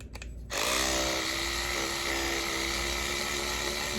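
A small rechargeable power scrubber whirs on after a brief click, holding a steady high buzzing hum close by with no talking.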